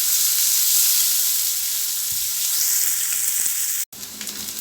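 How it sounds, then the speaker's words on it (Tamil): Chopped onions sautéing in a hot pan for a thokku, a steady close sizzle and hiss throughout, briefly cut off near the end before the frying noise resumes, with no voices. "வெங்காயத்தை நல்லா வதக்கிக்கலாம்"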